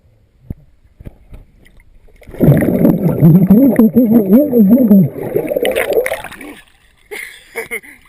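A camera is plunged underwater and held there, giving a loud, muffled gurgling wash with bubbling and splashes for several seconds before it lifts out; a voice murmurs faintly underwater.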